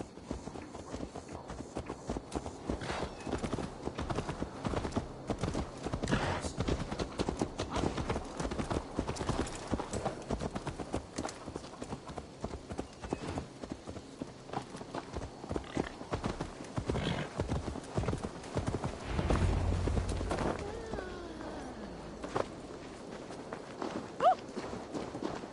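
Steady clip-clop of a horse's hooves in a Vikings video game, a brisk continuous rhythm of close hoofbeats lasting throughout, with a brief snort near the end and little talk.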